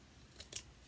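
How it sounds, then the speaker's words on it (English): Fabric scissors snip through material in a quiet room, two brief, crisp cuts close by and faint against near silence. "a hard time with these scissors cutting anything."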